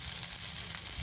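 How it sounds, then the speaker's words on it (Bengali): Neem leaves frying crisp in hot oil with salt, a steady bright sizzle and crackle throughout, close and unbroken with no voices. "নিম পাতা আমার ভাজা হয়ে গেছে, একদম কড়কড়ে ভাজা হয়ে গেছে"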